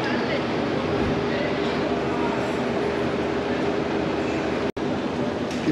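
A train at Guillemard station on Malaysia's Jungle Railway rumbles steadily close by, with a constant low locomotive drone and hum and one brief sharp dropout near the end.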